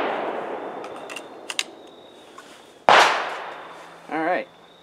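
Hi-Point pistol fired outdoors without a pillow over the muzzle, one loud sharp crack with a decaying echo after a few fainter pops, followed by a brief voice.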